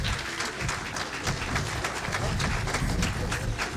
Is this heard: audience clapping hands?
yes